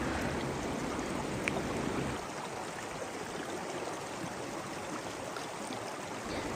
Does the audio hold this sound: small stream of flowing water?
yes